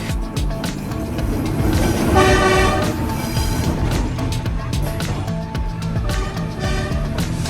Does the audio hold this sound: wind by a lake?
no